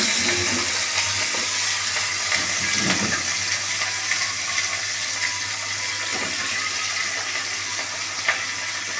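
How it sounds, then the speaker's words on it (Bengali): Winter vegetables fry lightly in a pan, giving a continuous broadband sizzle and hiss with a low hum beneath and a few soft stirring bumps, steady and close, with no talk. "এবার এগুলোকে একটু হালকা হাতে ভেজে"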